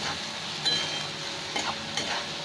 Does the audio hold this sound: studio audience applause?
no